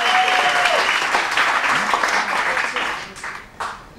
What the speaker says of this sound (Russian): Под ваши бурные аплодисменты, поехали!